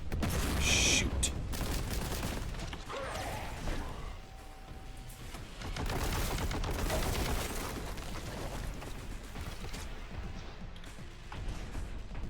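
Gunfire in Warhammer 40K Boltgun: dense, continuous rapid shots with heavy thumping impacts and crashing debris, sustained and loud throughout, with brief lulls and game effects in between.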